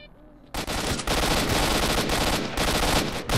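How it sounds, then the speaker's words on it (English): Enemy gunfire in the video game STALKER Shadow of Chernobyl, with loud, rapid automatic bursts that begin abruptly after a brief quiet start and keep up densely with short gaps, close and harsh. "They're shooting at me."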